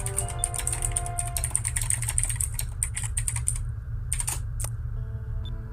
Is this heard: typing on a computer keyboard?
yes